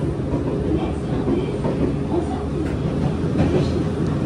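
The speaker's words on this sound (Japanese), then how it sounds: "この列車はこのまま南海本線を走行していくんですけど" A Nankai 7100 series train in old livery rumbles steadily along the Nankai Main Line rails, a continuous low roar with faint rhythmic clatter, close and fairly loud throughout.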